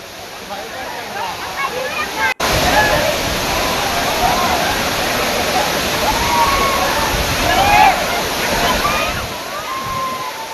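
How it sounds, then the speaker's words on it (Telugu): Mahitapuram waterfall tumbling down high hills in the Mulugu district forest: a loud, continuous roaring rush of falling water that fills the whole stretch, with splashing texture and faint bird calls above it. "ఎత్తైన కొండల నుంచి జాలువాడుతున్న మహితాపురం జలపాతాలు"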